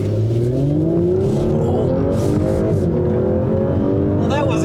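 A 2020 Audi S4 with the sport package and sport differential pulls hard at full throttle, its engine note climbing steadily in pitch, loud and close from inside the cabin, with voices speaking over it.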